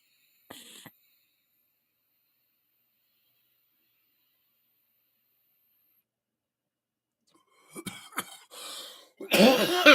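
After a brief noise and a long silence, a person coughs several times after vaping, in harsh, close bursts, growing louder toward the end.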